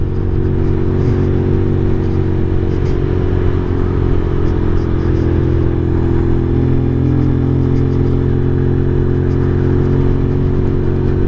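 A 2023 Venom SS3 KP mini 150 motorcycle cruising in fifth gear at around 5,000 RPM, its engine droning steadily and loudly with wind rush throughout, no speech.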